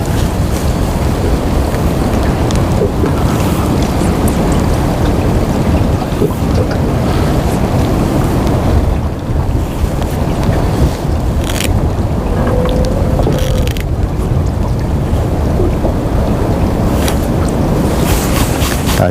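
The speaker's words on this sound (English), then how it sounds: "the wind is really making my hands cold" Steady wind gusts buffet the microphone out on the water during a March fishing trip, a constant low rumble with a rushing, wave-like wash and no voices.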